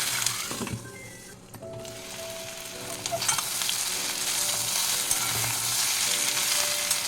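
Potato and saag frying in mustard oil, with a continuous close sizzle and the soft scrape of stirring throughout, no voices present.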